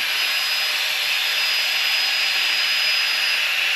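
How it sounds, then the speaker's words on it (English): Flextail Gear Pro electric pump inflating a sleeping pad, a steady high-pitched whirring hiss that runs close and unbroken without any change. "the trusty Flextail Gear Pro, which is the lamp and the pump, so this takes seconds"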